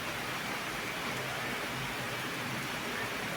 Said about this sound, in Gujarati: જોરદાર વરસાદ પડી રહ્યો ભાઈ ભાઈ.